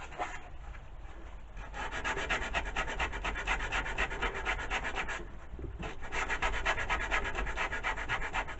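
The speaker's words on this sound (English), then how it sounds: "I grab myself a wee bit of sandpaper." Sandpaper roughing up the back of small cut stone pieces for a 1/12 scale stone floor, a continuous close gritty rasping rub with a couple of brief pauses.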